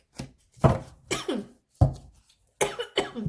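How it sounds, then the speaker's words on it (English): Several sharp, separate coughs at close range, grouped in short bursts with brief pauses between them and no talking. "Sorry, bit of a cough."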